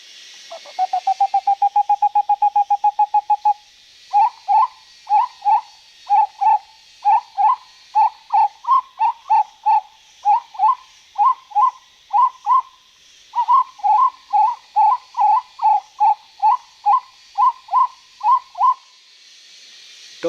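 A person whistles an imitation of the capoeira wood quail call: a rapid trill, then a long run of evenly spaced, cadenced two-note whistles, loud and close with no talking.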